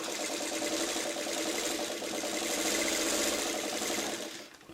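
A sewing machine stitching quilt subunits at a 3.5 stitch setting, running in one continuous close whirring burst with a rapid needle rhythm, slowing and stopping at the end.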